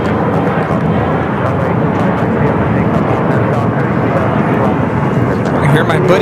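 A large airliner jet taxiing at LAX airport gives off a loud, steady, broad engine roar that holds even throughout, with someone talking over it.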